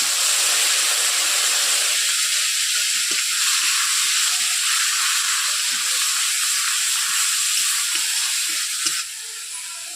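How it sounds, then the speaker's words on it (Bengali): Onion paste hits a hot pan of oil with cloves, cinnamon and cardamom for a Bengali doi katla curry, a loud, steady, close hissing sizzle that barely changes before easing slightly near the end. "এরপর দিয়ে দিচ্ছি পেস্ট করা পেঁয়াজ"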